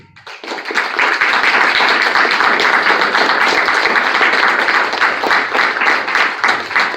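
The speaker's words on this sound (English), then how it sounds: "Thank you for the round of applause for my answer." An audience at an anime convention panel gives a dense, sustained round of applause, loud and close, running steadily for several seconds without talk.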